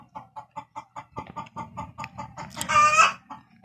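Chickens clucking in short, evenly spaced bursts, nearby, rising into a louder squawk near the end with no talking.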